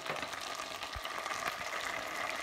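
Tomatoes added to garlic and onion frying in a pan sizzle in a steady, close hiss with a faint clink of a utensil.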